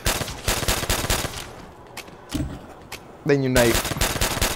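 Bursts of rapid automatic gunfire in Call of Duty: World at War zombies, loud and close, broken by short pauses, with a player talking over the shots and a brief electronic tone.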